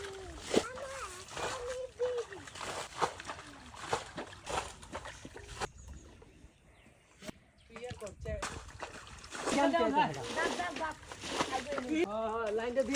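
Water splashes and sloshes repeatedly as a pond is bailed out by hand to catch fish, irregular throws of water mixed with children's and adults' voices talking and calling nearby.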